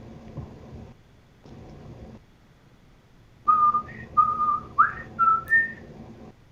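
A person whistles a short tune of several clear, distinct notes, following a stretch of faint low background hum.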